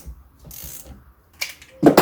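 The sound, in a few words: tightening the flywheel nut on a Yamaha YZ 250 engine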